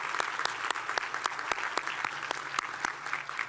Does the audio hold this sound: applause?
yes